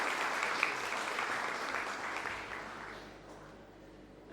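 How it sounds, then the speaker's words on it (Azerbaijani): An audience at a Cambridge exam certificate ceremony applauds a speaker onto the stage, sustained clapping that fades toward the end. "Dəyərli Həzrət Bəy, sizi səhnəyə dəvət edirik alqışlarınızla"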